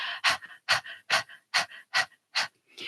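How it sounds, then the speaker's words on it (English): Rhythmic panting during a breathwork exercise, seven sharp, evenly spaced breaths, close and clear against silence. "I tell them it's like a panting."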